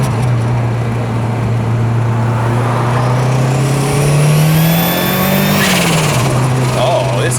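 A loud engine heard from inside a 1993 Ford Escort RS Cosworth revs up, then its pitch drops as a gear changes early and it settles into a steady drone.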